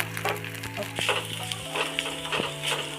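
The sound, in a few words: spices and onion frying in a pan for aloo paratha filling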